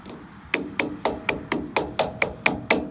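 Someone taps a polyurethane Mustang sway bar bushing, making about ten evenly spaced, dull, hollow knocks that sound close and fairly soft.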